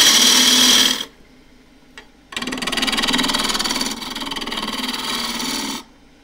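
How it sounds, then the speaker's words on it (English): A wood lathe turning a rough, evenly balanced board of unidentified hardwood at about 1300 rpm gives a loud, steady whirring drone. It runs for a second, cuts out briefly, then resumes and holds for several seconds before stopping. "So running this, it's nice and evenly balanced, running at 1300, just about."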